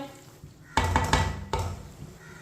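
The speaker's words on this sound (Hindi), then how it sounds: "दही डाल के ना अच्छी तरह मिक्स करना है।" Yogurt is stirred into a green chilli rice mixture with a utensil in a pot. A few distinct scraping strokes come close and clear, followed by quieter stirring.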